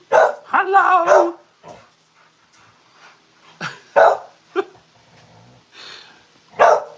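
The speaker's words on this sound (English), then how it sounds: "Molly, I didn't know you had such a deep bark." A dog named Molly lets out deep, loud barks close by: a burst of several at first, then scattered single barks and yips spaced out over several seconds.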